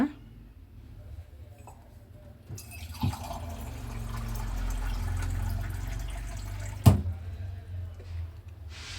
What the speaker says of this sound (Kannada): ಒಂದು ಲೋಟ ನೀರು ಹಾಕಿದ್ದೀನಿ